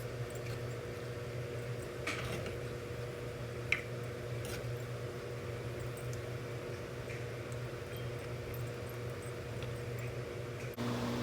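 Salsa with added salt being mixed in a stone molcajete, giving soft, wet squishing and grinding with a few light clicks over a steady low hum, faint and continuous, with no talking.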